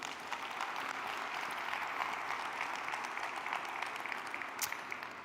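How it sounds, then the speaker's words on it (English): A large conference audience at a smart city forum in Riyadh applauds after a performance, a dense, steady wash of clapping from many hands that holds evenly throughout, with no voices standing out. "that performance deserves another round of applause"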